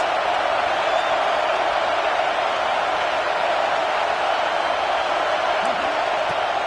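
Steady roar of a stadium crowd in a Madden/NCAA football video game, a dense continuous wash of noise on a fourth-down play in the second quarter, loud and unbroken throughout.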